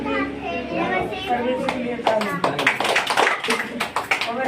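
A church congregation bursts into applause partway through, with sharp overlapping claps over voices and talk, following speech at a Sunday testimony service.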